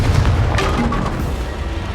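Bombarda and Confringo blasting spells cast in Hogwarts Legacy, heard as a dense, loud booming impact with a low rumble that fills the whole moment and then lingers as a steady roar.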